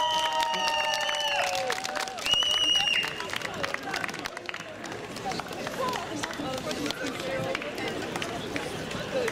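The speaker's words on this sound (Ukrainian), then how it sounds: "Гучнішими оплесками, щоб всі було тепліше." Audience at an international Ukrainian folk festival in Lutsk applauds loudly, dense sustained clapping from a large crowd, with a voice and some tonal sounds over the start before the clapping continues alone.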